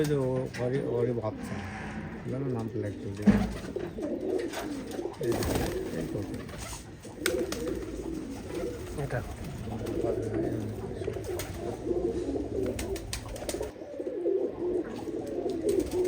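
Rajshahi colour-matched Giribaz pigeons coo steadily and close by, their low rolling calls running beneath almost continuous conversation between people for the whole stretch.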